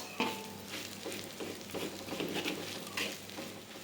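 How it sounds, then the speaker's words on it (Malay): Sambal dry-frying in a wok without oil with soft patter and crackle, broken by periodic scraping stirs of a utensil, close and moderate. "Gorengkan lagi atas kuali tanpa minyak ya."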